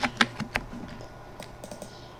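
Typing on a computer keyboard: a quick burst of sharp, close clicks, louder at first and then lighter and more scattered, with no voices.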